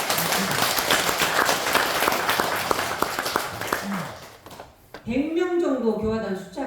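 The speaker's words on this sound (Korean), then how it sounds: "우리 진북교당 교도님들 위해서 박수 한번 칩시다." A congregation at a Won Buddhist temple bursts into loud, dense applause for several seconds; it fades out and a voice then speaks clearly.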